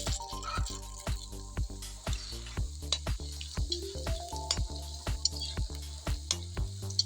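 Large sago pearls fry in hot oil for masala sabu: a faint, steady hiss of sizzling runs beneath louder, rhythmic background music with a regular beat and melodic tones.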